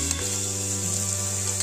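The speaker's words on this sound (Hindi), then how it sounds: "और इसको भूनेंगे। अब हम इसमें फिर प्याज डालेंगे" Onions fry in a pan with a steady, fairly loud sizzle that holds evenly for a moment. Nothing else is heard.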